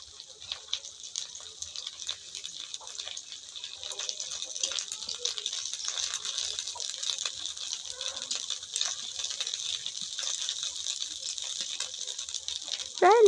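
Onions fry in a home kitchen pan with garlic and ginger paste, for a soybean and potato curry, a steady hissing sizzle broken by scraping, rattling stirring strokes that grow busier toward the end.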